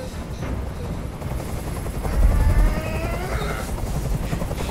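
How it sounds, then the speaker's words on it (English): A helicopter's steady rotor thrum in Detroit: Become Human, with a brief heavier rumble midway and faint higher chatter over the drone. "I can't stand that noise anymore. Tell that helicopter to get out of here."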